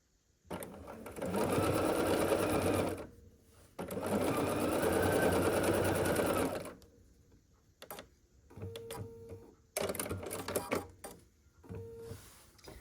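Sewing machine stitching the sides onto a quilt block, two long loud bursts of fast even whirring, followed by shorter stop-start runs and clicks near the machine.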